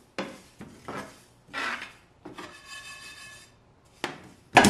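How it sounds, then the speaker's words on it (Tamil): Sesame seeds roast in a pan, with intermittent scraping and rattling bursts as they are stirred against the metal, close and moderately quiet. "இந்த எள்ளை இதுல போடுங்க. இப்ப இதை நாங்க வந்து பொன்னிறமா இதை வறுத்தெடுக்கணும்."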